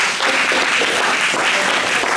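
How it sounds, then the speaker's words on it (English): People at a community meeting on internet and water applaud, a loud, dense burst of clapping filling the whole short stretch. "Let's give them a big round of"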